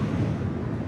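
Steady low wind buffeting against the microphone while riding a Segway GT3 Pro electric scooter at speed, a continuous rushing rumble with no voices.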